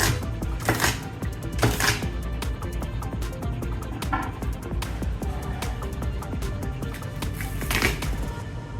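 Two onions being chopped with a knife for vegetarian fried rice, a steady run of close, loud knocks against the board with a few heavier thumps, and no speech over it.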